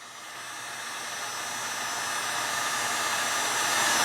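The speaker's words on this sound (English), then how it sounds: "Heat gun." A handheld heat gun blows hot air in a steady, hissing rush that swells gradually louder over a few seconds, close by and alone.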